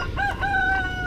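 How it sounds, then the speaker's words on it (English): A single bird call rings out clearly, a chicken's drawn-out, tonal cry, close by over a low rustling background. "Chickens are out enjoying themselves."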